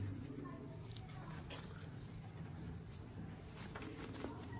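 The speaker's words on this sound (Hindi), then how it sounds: "हमारे भाई के फेमस चपड़े कबूतर हैं" Chapra pigeons coo softly amid a steady noisy background, faint and distant-sounding, with low murmuring voices close by.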